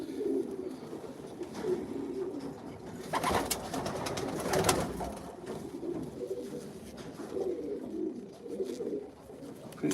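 Racing pigeons coo steadily inside a loft, their soft, overlapping low calls forming a continuous murmur throughout with no clear pauses.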